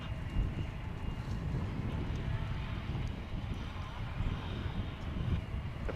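Airliner lifting off a runway at Dallas/Fort Worth Airport, a steady low engine roar mixed with wind rumble, heard from a distance and holding evenly for the whole stretch.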